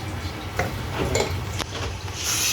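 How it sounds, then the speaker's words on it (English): Chicken being stirred with a few pinches of salt in a pan, a soft scraping and clatter of utensil against metal over a low steady sizzle, with a couple of brief louder knocks. "And now just stir it around."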